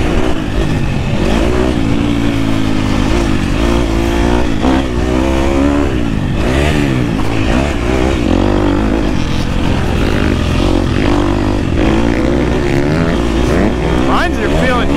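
A 2024 KTM 250 SX-F dirt bike engine revs hard in second gear, a loud, continuous roar with rising and falling pitch throughout.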